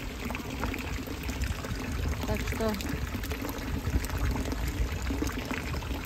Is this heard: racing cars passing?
no